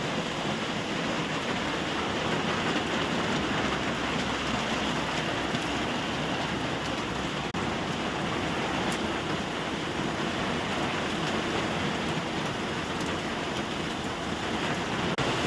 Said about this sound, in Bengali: আর দেখো বৃষ্টি পড়ছে